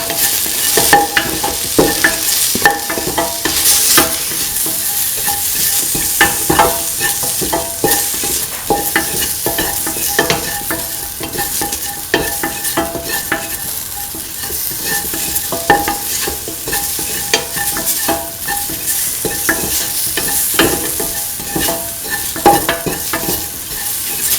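Spices and vegetables sauté in a pan for a kidney bean, green pea and coconut milk stew, with steady sizzling and frequent clinking stirs throughout, loud and close with no talking.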